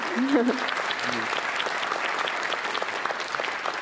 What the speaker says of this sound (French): oui, vous pouvez l'applaudir encore, bien sûr.